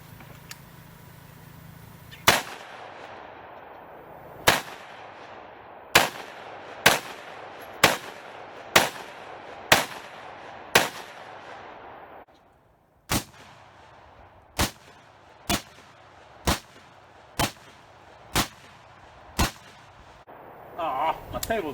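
A Bushmaster AR-15 rifle with Magpul furniture fires at a pumpkin target outdoors, about fifteen sharp, loud gunshots spaced one to two seconds apart in a steady rhythm, with a short pause midway.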